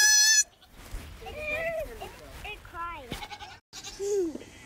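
A Nigerian Dwarf goat kid bleats in a loud, high, wavering cry at the start, with softer bleats after it, while people talk nearby.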